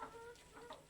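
A desi (country) hen clucks softly in a few short, quiet bursts, close by and faint, with no voices.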